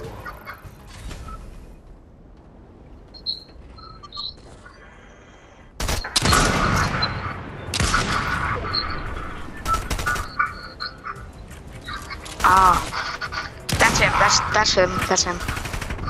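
Gunfire in the Fortnite video game, with several loud bursts of shots in quick succession under someone talking over game ambience.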